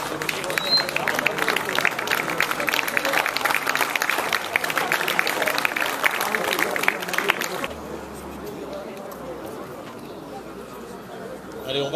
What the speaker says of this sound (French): On peut applaudir les deux équipes.